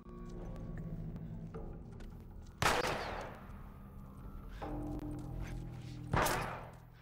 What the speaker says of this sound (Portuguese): Onde o cara tá me atirando?